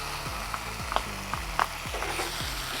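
Ginger garlic paste fries in a pan for paneer masala, making a steady sizzle under a regular rhythm of low scraping stirring strokes and light metallic taps, close and clear.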